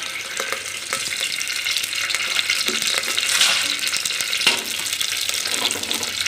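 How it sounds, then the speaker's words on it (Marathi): Green chillies sizzle and crackle in hot oil with masala while leftover chicken rassa curry is turned into a new dish, a steady bright frying hiss lasting throughout with occasional stirring scrapes and no talk. "प्रथम आपल्याला मिरची टाकायची आहे"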